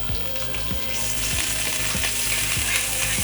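Butter and a little oil sizzling in a pan on a stove over medium-high heat, a steady loud crackling fry with a faint regular ticking underneath, no voices.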